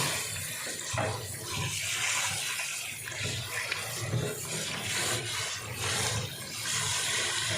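Water runs steadily from a tap while meat is washed in a sink, a continuous close splashing rush that stays fairly soft and even throughout.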